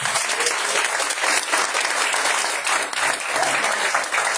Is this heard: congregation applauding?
yes